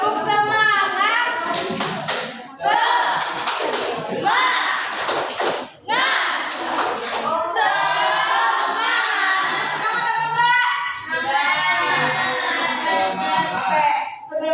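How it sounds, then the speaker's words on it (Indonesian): A class of second-grade schoolchildren claps out a rhythmic cheer in bursts of quick, sharp claps, mixed with children's voices and a teacher talking in a classroom. "Ayo semuanya, tepuk semangat."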